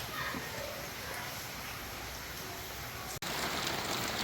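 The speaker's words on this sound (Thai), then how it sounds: "ตอนนี้ฝนตกนะครับ" Steady rain falling outdoors during home cooking, a constant dense hiss that fills the background at a fairly low level, with no clear voices.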